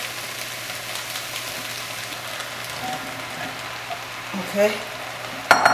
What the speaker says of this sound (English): I'm going to add the butternut squash.